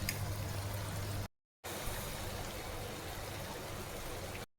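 Jalebi frying in hot oil, a steady bubbling sizzle at close range. It breaks off briefly once and then carries on at an even level.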